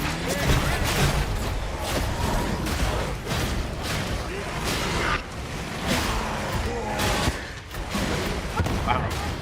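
A video game explosion booms amid dense, continuous loud combat noise with repeated sharp crashes and gunfire-like bursts throughout, close and busy.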